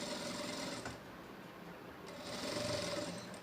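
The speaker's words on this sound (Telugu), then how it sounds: "ఇప్పుడు వన్ సైడ్ పైపింగ్ పెట్టి మనం ఈ విధంగా పైపింగ్ అయితే వేసేస్తాం కదండి." A sewing machine stitches piping onto a maggam work blouse, a fast continuous mechanical whir close by that briefly slows and then surges again, with no voices.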